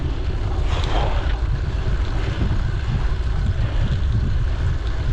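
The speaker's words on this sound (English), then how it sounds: "The headwind is apparent." Steady headwind rushing past a rider on a road bike ride, a constant, loud low roar of wind buffeting the microphone that continues without letup.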